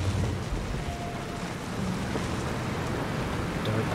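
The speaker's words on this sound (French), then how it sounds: "c'est de la flotte là, je vais noyer le moteur" A vehicle wades through water in the video game Far Cry 2, giving a steady, loud wash of splashing and churning water that runs unbroken for the whole stretch.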